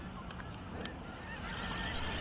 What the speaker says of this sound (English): The snow geese are just arriving now after a long journey from their Arctic nesting grounds